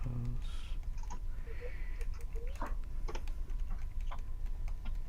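Someone types on a computer keyboard, producing a steady stream of quick, close clicks and taps, with a person speaking briefly in the background.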